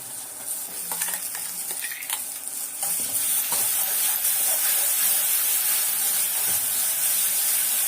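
Ginger garlic paste sizzles and fries steadily in a hot pan with stirring scrapes, a continuous near hiss that builds slightly louder partway through.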